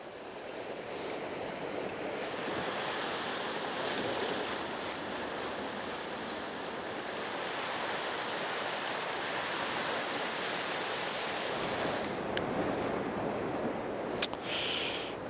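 Sea waves wash steadily against a rocky shore with submerged reefs at low tide during winter fishing, a continuous broad surf hiss at moderate distance with no talk over it.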